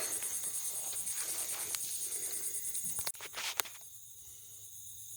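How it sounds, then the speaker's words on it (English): Dense shrill chorus of crickets and insects at dusk at a deer lease campsite, steady and continuous, then thinning after a few soft rustles and a sharp knock partway through. "Starting to hear the crickets and tree frogs and bullfrogs"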